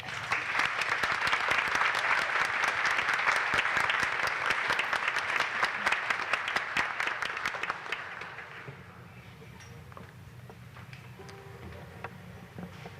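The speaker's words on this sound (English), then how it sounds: "Please join me in a final round of applause." A large audience gives a long, dense round of applause at a healthcare awards ceremony. It holds steady and loud for about eight seconds, then thins out to a quieter room with scattered claps.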